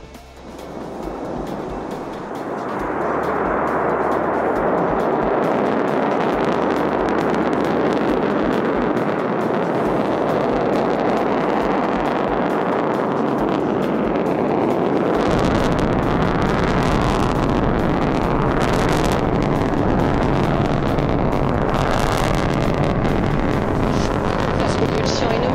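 An Ariane rocket lifts off at 776 tons carrying the Chollian 2A satellite. Its deep, broadband roar swells over the first few seconds, then holds loud and steady throughout.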